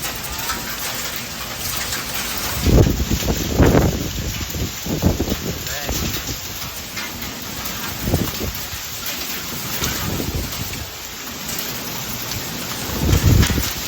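Hail pelts down during a microburst in Phoenix, Arizona, a steady roar of hailstones drumming on surfaces with louder gusting bursts, while people talk excitedly throughout.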